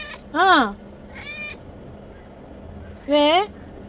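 Pet cat meowing indoors, two loud, close, drawn-out meows about three seconds apart with a softer call between them, over quiet background.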